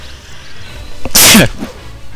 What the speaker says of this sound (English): I sneezed there